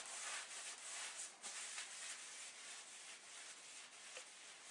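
A rag soaked in acetone rubs over a drill chuck taper in a faint, continuous scrubbing hiss with slight swells, close and quiet, with no talking.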